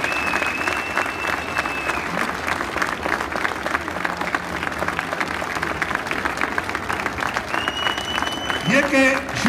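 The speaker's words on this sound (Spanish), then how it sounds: "Un aplauso para él." An audience at a charity auction of Asturcelta pigs breaks into steady, sustained clapping that fills the room at moderate volume, with a few voices calling out near the end.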